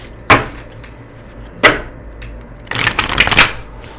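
Tarot cards shuffled by hand, three crisp riffling bursts close to the microphone, the last one longer and more textured, with no talking.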